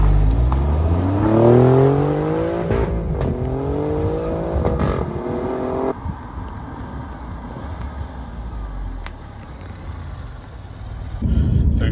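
An Alfa Romeo Giulia Quadrifoglio drives along country roads in Essex while warming up its tyres. The engine revs up loudly through rising gear pulls, then settles into a lower, rougher drone with road and wind noise before surging again.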